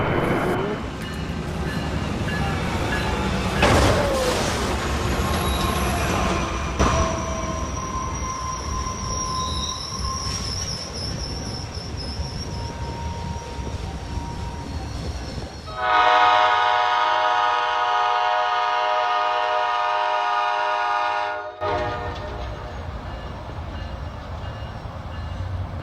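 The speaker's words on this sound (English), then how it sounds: "one of the most beautiful snow-covered train journeys you'll ever see online" A train rumbles along a snow-covered track with steady rolling noise and wheel squeal, then a loud sustained horn blast sounds for several seconds before cutting off.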